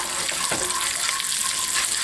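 Sausage and vegetables fry in sunflower oil in a pan for a frittata, giving a dense, steady, close hiss of sizzling with one brief stir partway through.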